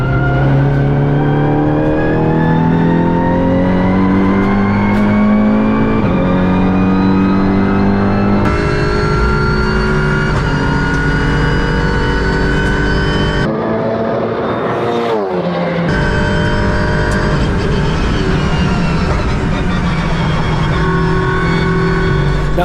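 A race car with a sequential gearbox and straight-cut gears screams through repeated loud upshifts, each rising engine note cut by a brief gap, with a harsh gear whine over the close, continuous roar.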